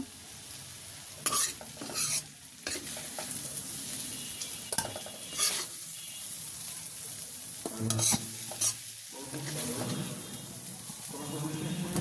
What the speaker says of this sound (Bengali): টমেটো সুন্দর করে কষা নিলাম, এখন আমি মিশিয়ে দেবো